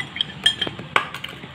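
Omelette ingredients being mixed with oil, turmeric, chili powder and salt, a utensil clinking lightly against a bowl in a few quick, close taps, with no speech.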